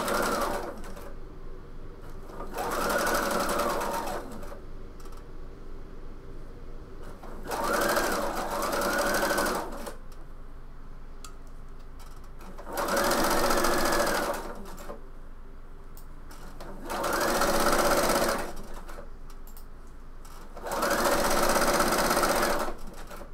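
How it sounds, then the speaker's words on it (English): A sewing machine stitches the piped edges of a bomber jacket in five separate runs of several seconds each, a loud close whir separated by short quiet pauses. "I'm going to sew the piped edges on."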